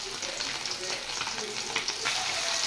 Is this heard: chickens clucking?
no